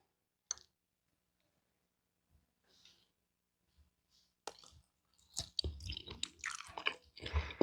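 Someone chewing a bite of vegan ham made for a Thanksgiving dish, with soft crunchy, squishy mouth sounds growing dense and close in the last few seconds after a few faint clicks and near silence.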